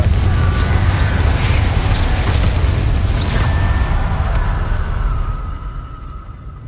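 Fire and blast spells going off in rapid succession in Hogwarts Legacy during a fight with Inferi, dense booming rumbles and bursts layered loudly over one another, easing off in the last second.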